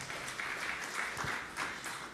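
A church congregation applauds in a brief, faint, steady patter of clapping heard from a distance.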